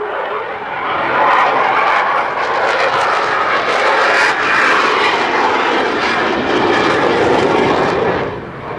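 A Eurofighter Typhoon jet roars through an airshow display. The loud, broad engine rumble swells and fades as the aircraft passes, with no talk heard.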